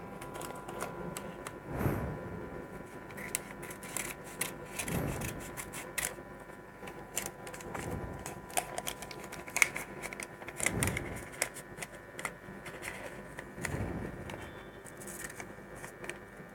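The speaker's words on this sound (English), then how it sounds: "cut it with the help of a scissor." Scissors cut thermal printer paper into a triangle for a PU-4010 urine analyzer, giving faint, soft snips roughly every three seconds over a quiet room hiss.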